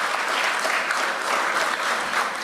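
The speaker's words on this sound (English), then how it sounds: "Let's please give all groups a special round of applause for their appearance and for their" An audience at a competition gives a sustained round of applause for all the groups, with dense, even clapping throughout and no breaks.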